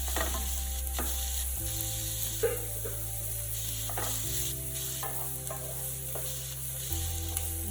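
Finely chopped garlic fries in a pan with a continuous, even sizzle and occasional stirring scrapes, over a steady low hum.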